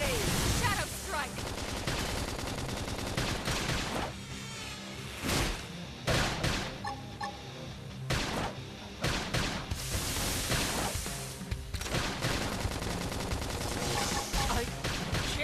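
Rapid bursts of gunfire and blasts from combat in the video game Xenoblade Chronicles X, dense and continuous, mixed with game music and character voices calling out during the fight.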